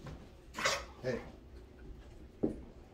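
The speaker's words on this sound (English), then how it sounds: "No, no, bad dog." A dog barks and whimpers indoors: two quick close barks, then a short yelping whine a moment later, over a low background hum.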